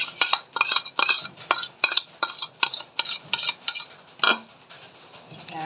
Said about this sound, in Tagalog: ihahalo na natin yung suka na may asukal, na may paminta, na may asin sa ating atsarang labong